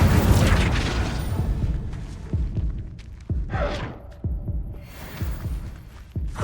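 Booming fire-spell blasts in Hogwarts Legacy, a string of deep thumping explosions and bursts spaced irregularly, each with a short rumbling tail.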